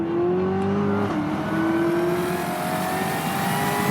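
A Corvette C7 ZR1 engine revs hard, its loud tone climbing and then holding a strained, rising pitch before cutting off abruptly at the end.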